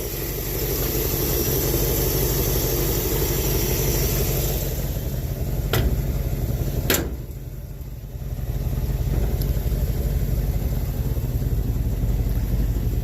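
A 1967 Chevelle engine idles loudly and close, a steady rumbling drone that briefly dips and falters around the middle before settling back to an even idle, with no talk.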